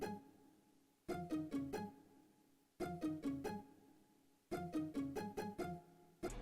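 Pizzicato strings preset in an FL Studio pluggnb beat, playing a short repetitive plucked pattern in three bursts of quick staccato notes, quiet and low in the mix with gaps between phrases.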